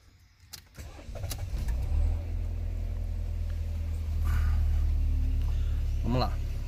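Fiat Toro with almost 40,000 km cranking into life and settling into a steady, close idle rumble, with a person talking over the engine.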